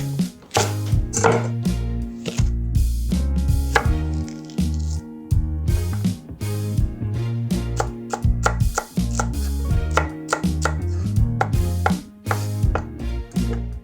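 A knife chops celery on a cutting board for turkey meatball wedding soup, a long run of close, loud, rhythmic thuds in quick bursts with brief pauses between them and no talking.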